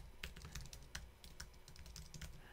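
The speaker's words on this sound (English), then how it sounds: "I can type everything" Typing on a computer keyboard, a quick irregular run of close, light key clicks repeating steadily over a couple of seconds, quiet with no voices.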